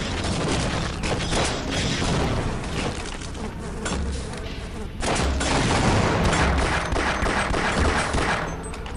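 Video game combat with dense, continuous gunfire, including shotgun blasts and rapid bursts. The loud shots overlap with mechanical clacks and booms throughout.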